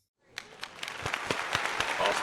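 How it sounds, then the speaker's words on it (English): Applause from a small group in a football coaching session rises quickly from silence into dense, steady clapping that grows slightly louder over about two seconds. "Hey, man, I love the clapping."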